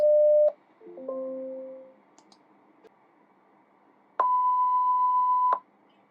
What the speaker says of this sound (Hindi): इस टाइप से कुछ अलार्म बजेगी हर एक साइकिल के बाद